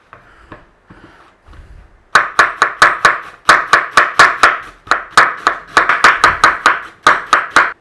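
A knife shreds red cabbage on a board in fast, even strokes, a run of sharp close chops that begins after a few softer taps and carries on in quick bursts.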